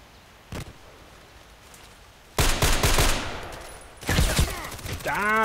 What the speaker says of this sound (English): Shooting at me, which is not so good.